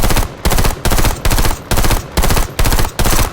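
Rapid bursts of Call of Duty Mobile battle royale gunfire, eight short loud volleys in a regular rhythm with brief gaps between them.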